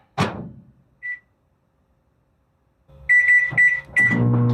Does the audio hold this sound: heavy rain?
no